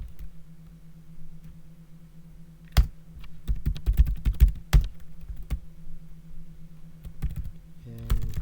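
Keys clatter on a computer keyboard as Linux terminal commands are entered, in quiet bursts of rapid clicks with a few sharper, louder key strikes and short pauses between, no voices.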